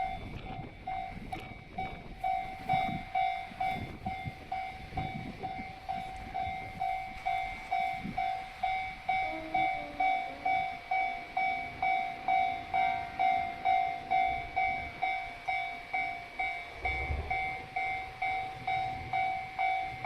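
A railroad crossing bell rings in a steady, repeating clang at a crossing on a line due to close, with the rumble and clatter of a passing train beneath it.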